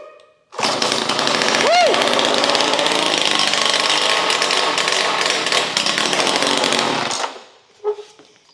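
A vintage gas engine latched at high throttle with the choke out fires up and runs loud and rough with a steady rapid clatter for several seconds, then cuts off abruptly; a voice briefly whoops over it.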